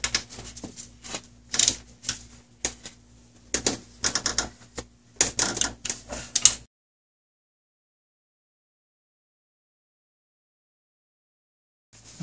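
A torque wrench on a Toyota 5VZ-FE cylinder head bolt gives a series of sharp, close clicks and ratchet taps in quick irregular bursts, then falls silent.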